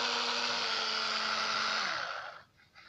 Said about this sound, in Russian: Сразу же пошла у нас вертеться.